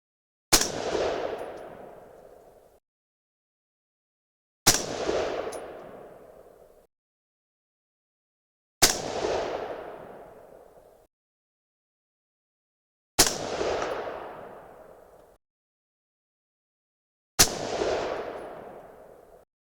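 Five loud 6.5 Creedmoor rifle shots firing Berger 130gr AR Hybrid OTM Tactical bullets loaded with VihtaVuori N555 at 2.8-inch magazine length, each sharp crack trailing into a long decaying echo, spaced evenly about four seconds apart with silence between.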